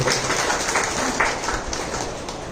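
A seated audience applauds at a community gathering, a dense, steady patter of many hands clapping at moderate distance, continuous throughout with faint background voices.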